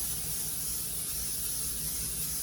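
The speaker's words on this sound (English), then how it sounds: "I spray the vegetable oil on it" A continuous close hiss of a vegetable oil spray can sprayed onto spaghetti squash, steady and unbroken for the whole moment.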